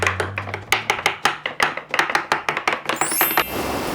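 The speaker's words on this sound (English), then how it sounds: "I am chopping up the chilies." A knife chops chilies on a board in a South African Wild Coast kitchen: fast, even, close strokes in a steady rhythm, ending with a brief high scraping whine.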